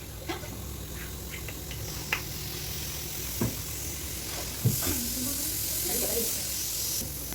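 A tempering of spices frying in sesame oil for a dried fish chutney gives a steady, close, even sizzle and hiss throughout, with a few faint clicks and brief background sounds.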